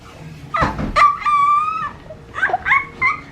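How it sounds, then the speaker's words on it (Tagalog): A dog sound from a children's animal book: a short yip, then a whimpering whine and a few higher yelps, loud and close, with no talk over it. "Let's find the dog."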